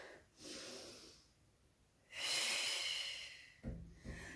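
Breathing during a yoga plank exercise: a soft breath early on, then a long, louder exhale through the nose, followed by two shorter snorty breaths, close and fairly quiet.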